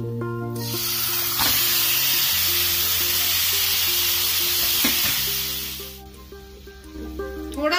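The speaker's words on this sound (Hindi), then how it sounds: "अब इसमें चिकन डाल देंगे।" Chicken pieces hit a pan of masala fried with coriander powder over low heat, setting off a loud, steady sizzle that runs for several seconds before easing off, with faint music playing underneath.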